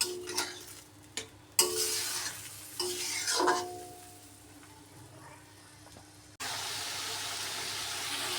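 Water goes into a pot of meat curry cooking with cardamom, cinnamon and clove, bringing a few scraping stirs and clatters, then a pour and a hiss that settles into a steady sizzling simmer.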